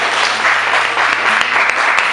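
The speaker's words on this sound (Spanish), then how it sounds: "Señores, señoras, chicos, chicas, un aplauso" A crowd at an open-mic night in Madrid applauds the jury with loud, steady, dense clapping throughout.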